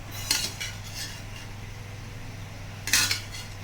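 A spoon scrapes and clinks against a pan while a fried egg is moved into a bowl, with two sharper bursts of metal contact over a low steady kitchen hum.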